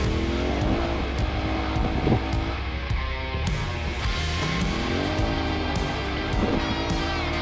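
Off-road race vehicle, car 688, roars loud and close with revving engine pitch rising and falling throughout, on a final run at the Gundy 400 desert race.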